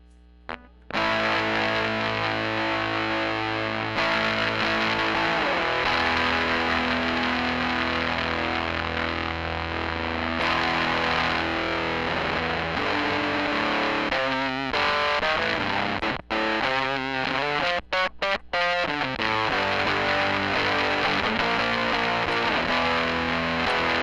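A homemade distortion circuit drives a loud, continuous, fuzzy tone that sustains for most of the stretch, with shifting pitches and a few brief choppy dropouts near the end.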